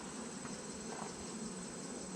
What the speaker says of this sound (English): here's some more bees